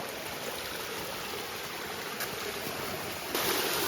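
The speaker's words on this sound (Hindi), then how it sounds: "और ये पानी आ रहा है नहर पे" Water flowing along a village canal fed by a hydram scheme, a constant rushing wash heard up close, growing slightly louder toward the end.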